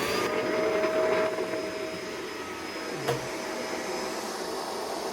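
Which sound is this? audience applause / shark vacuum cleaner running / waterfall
shark vacuum cleaner running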